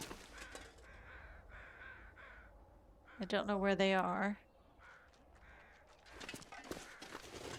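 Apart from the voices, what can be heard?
crows cawing in the video game The Long Dark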